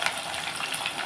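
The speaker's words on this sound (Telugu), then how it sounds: "ఇప్పుడు ఇందులో మనం ఆయిల్ హీట్ ఎక్కుతుంది కదండి, పచ్చిమిర్చి, ఉల్లిపాయలు" Green chillies and onions fry in hot oil in a pan for a Telugu prawn and gongura curry, giving a steady, close, broadband sizzle and crackle throughout, with no talk.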